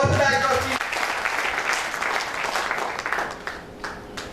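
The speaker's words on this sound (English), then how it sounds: "a huge round of applause for the backdrop team" At a men's rights national meet in Agra, an audience bursts into loud, dense applause that starts right after a voice and then gradually thins and fades.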